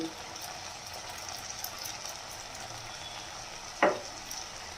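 Garam masala and spices sautéed in a pan on low heat with rice and garlic prawns, a soft steady frying sizzle with faint stirring and one brief scrape of the spoon near the end.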